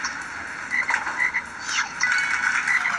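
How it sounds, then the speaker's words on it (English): A cartoonish frog croaks in the Bowling King video game, with loud, steady croaking that continues through the clip alongside bright game tones and no talking. "What the heck is that frog right there?"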